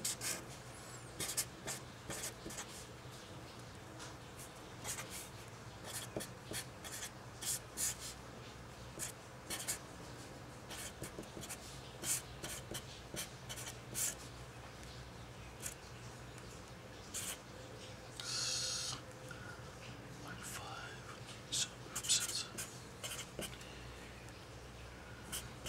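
Pen or pencil writing on paper while working out a math problem, close and faint, with intermittent scratching strokes and brief pauses over a quiet background hum.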